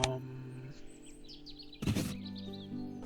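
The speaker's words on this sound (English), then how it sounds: "Franklin's gull." A Franklin's gull call from the Wingspan board game adaptation: a few short, high chirping cries over a steady background music bed, fairly faint, with a louder burst near the middle.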